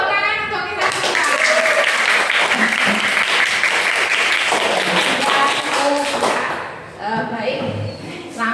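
A classroom of students claps together for several seconds, a dense, loud and steady burst that briefly dips before picking up again, with children's voices mixed in toward the end.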